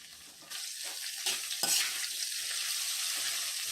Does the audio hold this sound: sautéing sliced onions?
yes